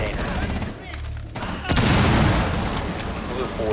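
Gunfire in the Rainbow Six Siege video game, a dense burst of rapid shots followed by a sustained loud stretch of continued firing, with a player's voice mixed in.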